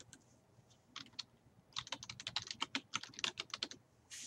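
Rapid typing on a computer keyboard, close and fairly quiet, with a few isolated key presses followed by a quick irregular burst of clicks while filling in a name and email.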